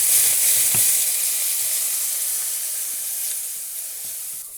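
Garlic and a dash of Chinese rice wine hit a hot pan for General Tso's chicken, throwing up a loud, steady hiss and sizzle with a brief clink of stirring, close and without talk.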